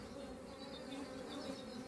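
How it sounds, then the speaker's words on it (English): A honey bee buzzes steadily and faintly near a hive in an apiary, a continuous close drone with no talk over it. "there's a bee here on the other side"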